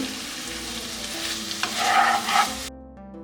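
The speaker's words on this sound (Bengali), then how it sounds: "এবারে আমি এতে কিছু লবণ দিয়ে টমেটোটাকে প্রায় পাঁচ মিনিটের মতো একটু সেদ্ধ করে নেব" Tomatoes with salt cook in a pan for aloo masala chaat, making a close, steady sizzle with stirring scrapes. The sound swells briefly near the end, then cuts off into quiet.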